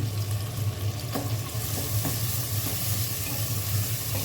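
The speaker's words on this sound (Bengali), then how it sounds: "তেলের মধ্যে পেঁয়াজ এলাচি দারচিনি দিয়ে দিলাম" Onion, cardamom and cinnamon fry in hot oil in a pan, a loud, close, continuous sizzle with stirring scrapes and occasional clinks, no voices.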